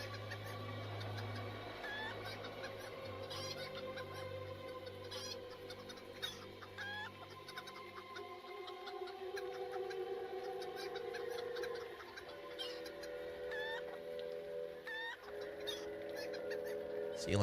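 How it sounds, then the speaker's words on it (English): Clucking chickens in the Lord of the Rings Online game, near the barrier to the Paths of the Dead: repeated short clucks and calls spread through the clip over steady game music and ambience. "Who would have thought a chicken crossing the barrier to the paths of the dead?"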